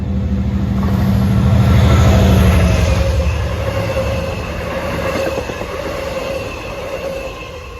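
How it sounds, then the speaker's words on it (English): A 12-car Long Island Rail Road train, number 1280, arriving at Forest Hills station: loud, close rumble of rolling cars with a sustained metallic wheel squeal and steady clatter, without talk. "here comes 1280 to Wantagh, is a few minutes late. 12-car train"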